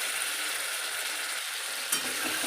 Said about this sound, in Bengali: কুমড়ো আর ঝিঙে একসাথে কিছুক্ষণ কষিয়ে নিলাম